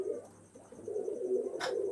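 Pigeons kept for sale coo in soft, low, repeated calls close by, with a brief sharper noise near the end.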